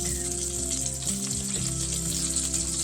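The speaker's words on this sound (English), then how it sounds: "Our goal is to sear these steaks." Steaks sear in a hot pan, a continuous loud, crackling sizzle close up with a steady hiss throughout and no talking.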